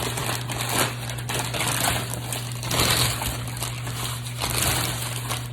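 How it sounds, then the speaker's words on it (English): Close, continuous crinkling and crackling as crumpled paper is flattened out, with bursts of louder rustling over a steady low hum. "Uncrinkle your paper."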